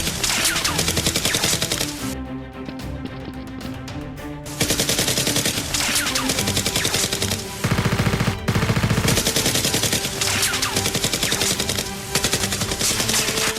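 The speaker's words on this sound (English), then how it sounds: "Rose suddenly turns and fires repeatedly at Dr. Lee and the henchman" Nerf blasters firing in rapid repeated bursts during a staged indoor Nerf battle, a loud continuous clatter of shots dense with action-soundtrack energy, with short breaks between volleys.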